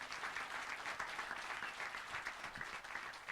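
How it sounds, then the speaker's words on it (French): Audience applause for a town mayor introduced on stage at a televised village evening event, a steady dense wash of clapping at moderate distance, continuous throughout with no talk over it. "On l'applaudit bien fort."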